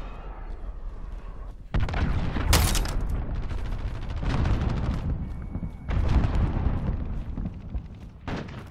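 Enemy cruise missile strikes in a Call of Duty Modern Warfare multiplayer match: a series of heavy, booming blasts with rumbling tails, loud and close, one after another over several seconds.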